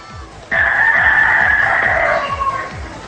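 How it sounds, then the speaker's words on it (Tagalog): A rooster crows loudly and close in one long drawn-out call that starts sharply and trails off, heard during a noisy television studio broadcast with a low rhythmic hum beneath. "Parang may taktalaok ng manok."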